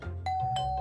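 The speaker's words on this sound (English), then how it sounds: "That's the doorbell." A cartoon doorbell in Hey Duggee chimes a clear two-tone ding-dong, ringing out alone with a short lingering tail.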